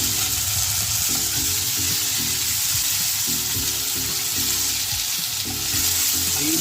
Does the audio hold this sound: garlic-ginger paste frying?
yes